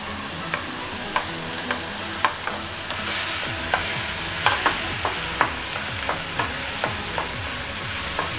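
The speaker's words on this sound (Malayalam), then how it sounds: "നമുക്ക് സവാള ഇട്ട് കൊടുക്കാം." Onions frying in a pan for restaurant-style chilli chicken, a steady close sizzle broken by regular scraping stir strokes roughly every half second, with no voices.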